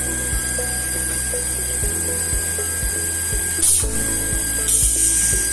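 Pneumatic rocker arm spot welder joining two 0.5 mm sheets: a steady machine hum with regular mechanical clicks, broken by two short sharp bursts of air hiss as the arm cycles, close and fairly loud.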